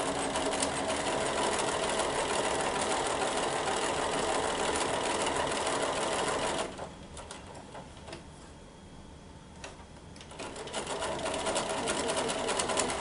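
A sewing machine runs in a steady rapid whir while stitching around the raw edges of a quilt block, pauses briefly as the needle pivots, then resumes at close range.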